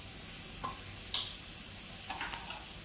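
Onions fry in a pan with a faint, steady sizzle, broken by a few soft stirring scrapes.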